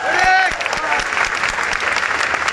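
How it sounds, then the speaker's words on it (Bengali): Steady audience applause answering a call for clapping during a public speech by a barrister, a dense, loud roar of hands lasting the whole stretch, with a voice heard briefly at the start. "ওনার জন্য একটা হাততালি আমি আশা করি।"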